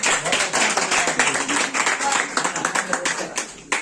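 Audience clapping in a Sunday class, a fast patter of hand claps that rises and falls in short bursts over a few seconds, up close and lively.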